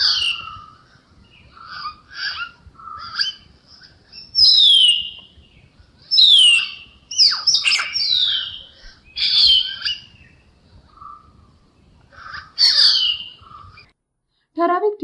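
Hill myna in the Western Ghats, perched and calling: a series of loud whistles and harsh shrieks in separated bursts, with quieter chirps between, fairly close against a quiet background.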